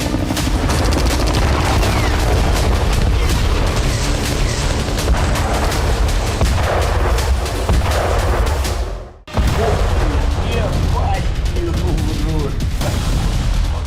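Artillery fire and explosions from war footage in the Donbas region form a loud, continuous barrage of booms and rattling gunfire, broken by a brief drop before the dense pounding resumes.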